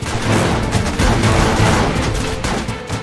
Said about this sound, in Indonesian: Pasukan India yang berjaga langsung membuka tembakan dengan senapan mesin berat